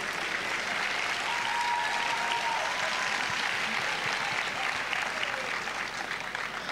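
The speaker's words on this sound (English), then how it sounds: "Let us applaud for the graduates for their academic achievements." A graduation-ceremony audience applauds the graduates with an even, continuous patter of clapping from a large hall, held at a steady level without pause.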